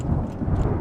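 Thunder rumbles in the Banner Saga video game during a lightning storm, a brief, steady low roar with a faint rain-like hiss and no voices.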